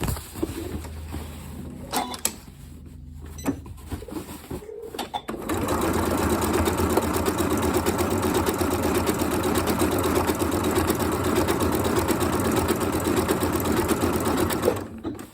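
A Janome Royal sewing machine stitches appliqué in a steady, rapid mechanical whir, beginning with a few short start-stop bursts before settling into a long continuous run of stitching up close.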